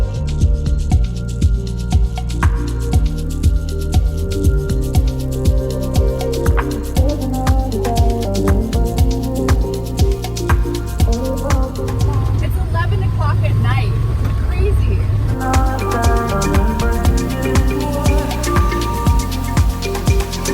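An ATV drives through the Stampede Corridor near Denali National Park in Alaska, its engine droning steadily and loud throughout with a rhythmic pulsing, briefly rising in pitch midway.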